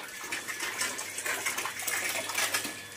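A household water pump runs steadily to refill an emptied water tank, a continuous rushing, whirring drone with a faint mechanical hum underneath, nearby and moderately loud.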